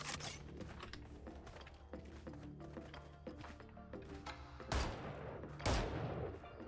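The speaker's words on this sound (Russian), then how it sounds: "Это пулемет." A machine gun fired in the video game Valorant, bursts of rapid gunfire mixed with mechanical clicks and clatter, with two louder sharp blasts near the end, heard without talk.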